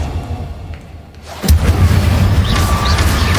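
An Incendio fire spell in Hogwarts Legacy ignites with a sudden loud whooshing burst and keeps roaring as sustained crackling flame, loud and close, following a quieter stretch.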